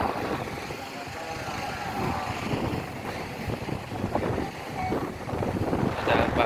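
Strong wind gusts against the microphone beside an ALS 343 bus, roaring and buffeting at close range with rising and falling surges throughout.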